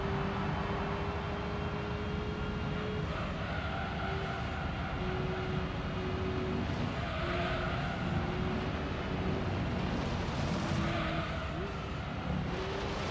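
Gran Turismo 3 racing audio with a car engine droning steadily throughout, shifting pitch as it accelerates and brakes, with a few tire squeals near a corner, all fairly loud and continuous.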